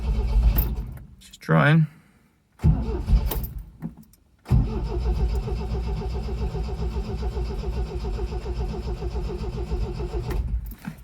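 Starter cranking on a 1974 MGB GT during a cold start with choke pulled, a loud steady churning engine turnover running for several seconds after brief bursts, with someone talking briefly.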